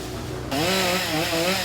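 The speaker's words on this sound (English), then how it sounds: "The overpowering rumble of chainsaws greeted many the next morning." A chainsaw cutting fallen trees after a storm starts up abruptly and runs with a loud, buzzing, wavering engine drone, close by and alone.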